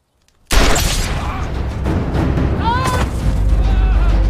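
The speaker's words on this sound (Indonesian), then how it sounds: "rumah itu kosong dengan bom meledak di dalamnya" A bomb blast inside a house in a film: a sudden loud boom after a brief quiet, followed by sustained roaring rumble and debris noise throughout, with some crackling and a faint voice-like tone.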